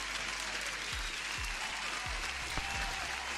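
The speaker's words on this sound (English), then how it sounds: "And you deserve the applause." A faint canned applause sound effect in a live day-trading stream: a soft, continuous wash of clapping lasting about three seconds, with a few low thumps underneath.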